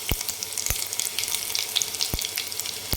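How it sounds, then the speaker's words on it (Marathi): Mustard seeds crackle and pop in about 1.5 ladles of hot oil in a pan, with a steady broadband sizzle and scattered sharp pops close by, no voices. "मोहरी छान एकदम तडकू द्यायची"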